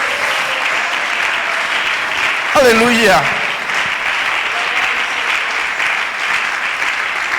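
A church congregation applauds during an evening sermon, steady broadband clapping that runs under a voice shouting praise partway through.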